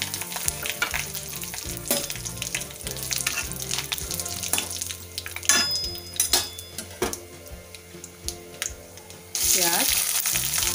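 Curry leaves hit hot oil with cumin and dried red chillies in a kadhai, a loud close sizzle with stirring clinks and scrapes, flaring to a fresh burst of spitting near the end.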